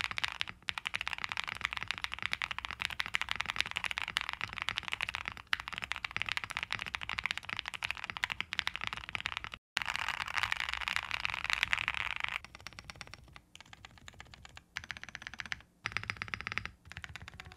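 Rapid, steady typing on a Neo80 custom mechanical keyboard with foam installed: a dense stream of close, crisp key clacks that runs continuously, then breaks into shorter bursts separated by brief pauses toward the end.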